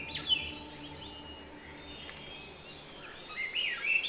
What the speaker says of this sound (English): the sun is greeted by a multitude of bird songs